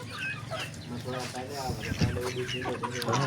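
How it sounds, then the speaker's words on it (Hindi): Chickens pecking at tomato and spinach given to them, with clucking from the fowl near and steady throughout, mixed with a person talking over them. "तो अब यार इन बाहर वाले परिंदों को भी टमाटर और पालक दे दे"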